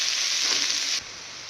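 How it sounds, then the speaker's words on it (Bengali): Onions sizzle steadily in hot oil with bay leaves, a dense, loud hiss that cuts off abruptly to a quieter background about two-thirds through. "পেঁয়াজটা ভাজা প্রায় হয়ে এসছে, আর একটু লাল হবে।"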